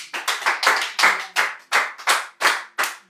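Church retreat audience clapping to acclaim the Lord, a steady run of about a dozen sharp, close hand claps in an even rhythm, with no talking over them.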